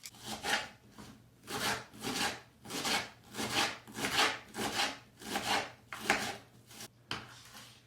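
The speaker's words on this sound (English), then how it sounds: "we're going to cut the onion in small pieces" A knife cuts an onion into small pieces on a board in about a dozen rhythmic, evenly spaced strokes, close and moderately loud, with a brief pause before the last cut.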